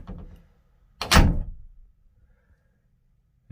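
Door on a Pursuit 326 DC boat swung shut and latched, a single solid thunk with a short rattling tail, close and clear, followed by quiet.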